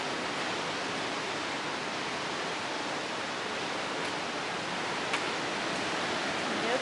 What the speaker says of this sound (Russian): Да, ну такая волна сильная тут